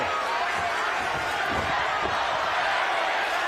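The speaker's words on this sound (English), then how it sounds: "Now the crowd imploring Jared Anderson to get to work" Crowd noise in a boxing arena during a fight night between Jared Anderson and Charles Martin, a steady broad roar of many voices urging a fighter on, constant and fairly loud with faint thuds underneath.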